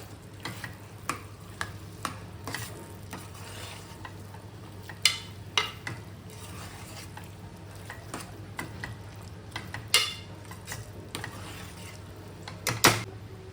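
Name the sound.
stirring boiled whole chickpeas into samosa filling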